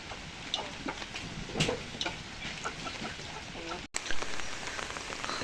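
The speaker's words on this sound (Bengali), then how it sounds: "তো দেখেন বৃষ্টি হচ্ছে" Rain falls steadily outdoors, a soft constant patter with scattered drips, while a chicken clucks briefly in the background.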